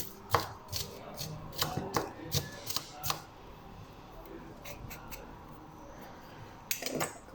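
Quick knife chops of onions on a cutting board, a rapid run of crisp taps followed by a pause and a couple more near the end.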